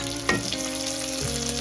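Chopped tomato dropped into onions frying in a pan for aloo dum, a brief splash then steady close sizzling hiss with a light stir, no talking.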